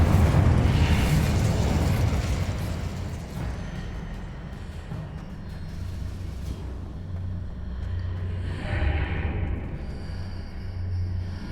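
Incendio fire spell bursting in Hogwarts Legacy: a loud, rumbling whoosh of magical flame erupts at the start, then settles into a sustained low roar with a second crackling swell near the end, no talking.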